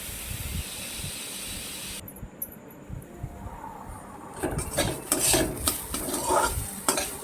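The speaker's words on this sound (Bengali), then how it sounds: "এবার আমি ওটাকে ভালো করে নাড়াচাড়া দেব, যাতে আরও বেশি জলটা টেনে যায়।" Long beans are stirred in a hot pan to cook off their water: a loud hiss of steam at first, then a drier sizzle with scraping stirs that grow busier toward the end, close by, no voices.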